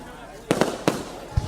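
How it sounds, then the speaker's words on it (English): Fireworks go off in a quick run of sharp, loud bangs, three close together and then one more after a short pause, with voices nearby. "These are the best fireworks I've ever seen."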